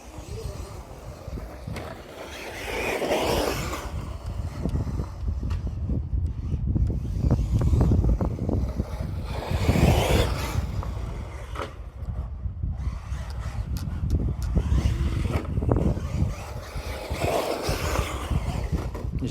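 A Traxxas Maxx Slash RC car on a 4S battery runs in bursts, its electric motor whining up and fading as it passes, with wind buffeting the microphone and a brief voice.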